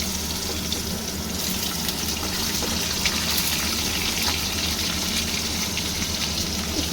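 Potatoes fry in very hot, smoking oil, giving a loud, steady, dense hiss and crackle that continues without a break from start to end, close up.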